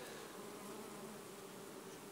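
Honey bees buzz around an apiary hive, a dense, steady drone from many insects close by, continuous and fairly faint, with no talk.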